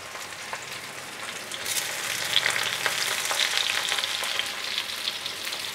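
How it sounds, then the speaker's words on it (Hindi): Soybean chunks fry in hot oil in a pan, a steady close crackling sizzle that swells slightly partway through, with faint stirring scrapes and no talking. "तेल जैसे ही हमारा गर्म हो जाए हम डाल देंगे सोयाबीन।"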